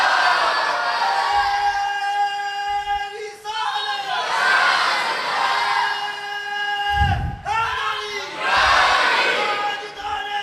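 A large gathering at an Eid Milad-un-Nabi religious gathering roars out bursts of slogan chanting, loud surging waves of many voices shouting in unison, rising and falling in several rounds.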